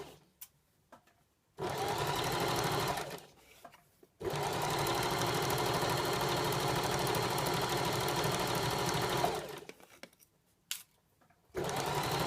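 A sewing machine stitches a shirt collar in two long steady runs of fast, even whirring, broken by short pauses with small clicks and handling noises, close and clear with no talking.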